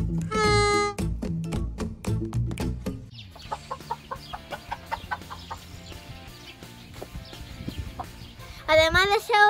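Chickens cluck and squawk in short bursts, loud at the start and again at the end, with busy background noise and some voices in between.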